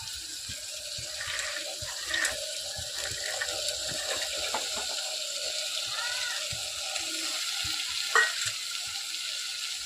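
Mixed vegetables added to softened onion and tomato for home-made vegetable rice give off a quiet, steady sizzle, broken by a few light clinks and scrapes of stirring.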